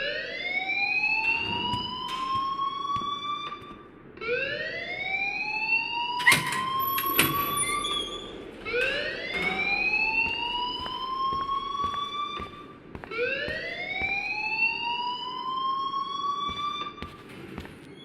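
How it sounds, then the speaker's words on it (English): A fire alarm at the school in Life Is Strange wails in repeated rising sweeps, each lasting about two seconds. The cycle is loud and continuous, with a brief clatter partway through. "please turn off that alarm"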